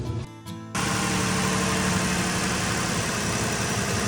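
A 2015 Ford Explorer engine, just fitted with new spark plugs, cranks and catches within a second, then settles into a steady, even idle that runs alone to the end.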